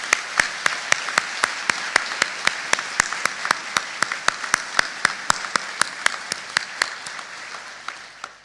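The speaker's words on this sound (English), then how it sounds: "Please join me in a big round of applause for Christina." A room full of people applauds steadily at a US European Command leadership welcome ceremony, with one close, sharp clap standing out in an even rhythm before it gradually thins out.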